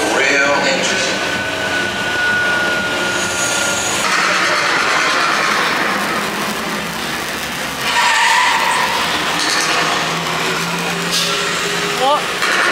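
Vehicle engine noise with skidding during a studio tour show at Universal Studios Hollywood, with loud bursts and crowd voices and talk throughout.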